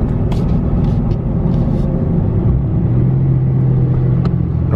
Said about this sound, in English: Normal downshift